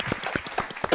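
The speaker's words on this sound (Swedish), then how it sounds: "Applåd." Brief audience applause at a live Swedish comedy show, heard as a quick run of separate claps, fairly close and uneven, lasting about a second.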